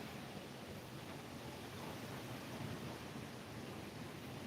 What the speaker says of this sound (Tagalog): malakas pa ang hangin, pabugso-bugso